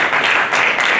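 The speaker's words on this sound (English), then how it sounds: "In a round of applause for the participants." An audience at a panel discussion applauds for the participants, with dense, steady clapping filling the whole moment.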